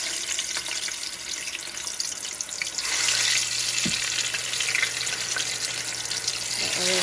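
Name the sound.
fries frying in hot oil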